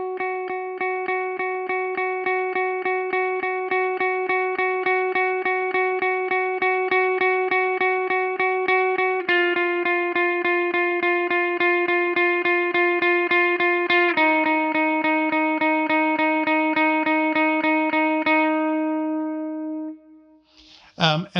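A clean electric guitar plays a slow, even lead line with no effects, steady repeated picked notes shifting pitch in a few sections before stopping, alone and close.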